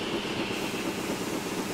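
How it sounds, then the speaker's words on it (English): An LMS Black 5 steam train rolls past in Train Simulator 2016 on the Sheerness branch line, a steady broadband rumble of wheels and carriages held at an even, fairly loud level throughout with no talking. "And there goes the train."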